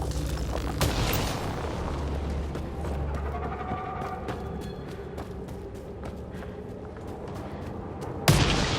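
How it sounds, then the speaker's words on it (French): Repeated gunfire from a weapon in the sci-fi shooter game Mass Effect Andromeda, a string of sharp shots cracking over a deep rumbling battle backdrop, with a loud blast near the end. "Votre arme fonctionne? Vous feriez mieux de vérifier. Tirez!"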